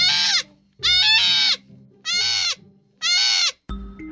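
Wild sheep bleating in four loud, close, drawn-out calls with short pauses between them, heard alone without talk.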